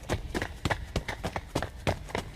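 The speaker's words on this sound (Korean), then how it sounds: "여러 사람이 한꺼번에 뛰어오는 구둣발 소리였어요" Several people running together in hard-soled shoes: quick, uneven thuds and scuffs follow one another closely, fairly near and loud, with no voices.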